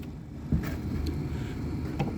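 A KITT replica car's engine turns over and catches, then settles into a low, steady rumble heard close up. A sharp click comes first, with a few faint knocks as it runs.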